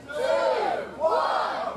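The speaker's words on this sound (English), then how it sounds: "Give him a round of applause as well." A crowd at an outdoor chilli festival eating contest whoops and cheers in two rising bursts of loud, close shouting voices.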